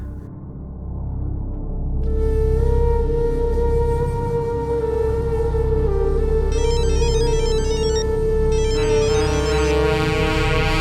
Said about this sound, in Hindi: बार बार फोन क्यों कर रहा है मुझे?